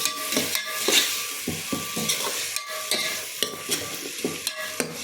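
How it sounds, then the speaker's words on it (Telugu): Ginger paste frying in a pan, a bright hissing sizzle broken by frequent quick stirring scrapes and taps of a utensil, close and loud, no voices. "చూడండి వేగుతుంది బాగా. వేగింది ఫ్రెండ్స్, బాగా వేగింది."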